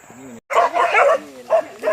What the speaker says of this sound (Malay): Ini anjing banyak ni.